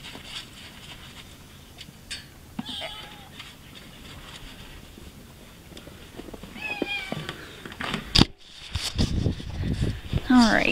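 A cat meowing on a horse farm, a few short close meows among rustling and shuffling, with someone speaking softly and louder handling noise toward the end.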